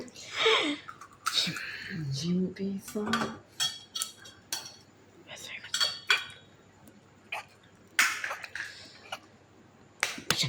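Eggs being cracked one by one and whisked in a bowl for an Indian-style egg fry, with sharp clinks and taps of utensil on the bowl's rim and quick scraping strokes spread through the clip, fairly close, between pauses.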